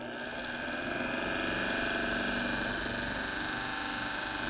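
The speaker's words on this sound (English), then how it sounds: "So our distributor is now spinning because our engine is running" A running car engine turns the ignition distributor, giving a steady, close mechanical whir and hum with a fast rhythmic ticking, loud and unbroken throughout.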